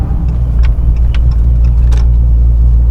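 A Dodge 426 Scat Pack with a supercharger on its naturally aspirated engine rumbles steadily and loudly up close, a constant low drone with faint ticking above it and no talking.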